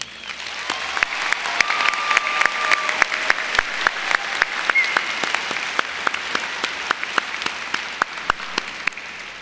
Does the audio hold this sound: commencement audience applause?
yes